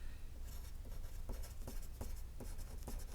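Pen or pencil strokes scratching across thin patty paper in a quiet room, a steady run of short, crisp scribbles with small pauses between them.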